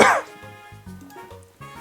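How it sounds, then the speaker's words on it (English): A single short cough bursts out at the very start, followed by quiet pitched murmuring sounds in the background. "I coughed."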